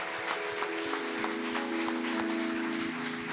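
Applause from a congress audience honouring people on stage, a steady wash of clapping throughout with a sustained musical tone underneath.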